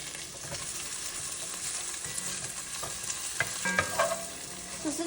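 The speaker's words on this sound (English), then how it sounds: "And also, I'm using a wooden spoon because then it doesn't scratch the pot or the pan." A wooden spoon stirs bell pepper and potato soup in a pot, soft scraping and knocking over a steady bubbling hiss, with a few sharper clatters toward the end.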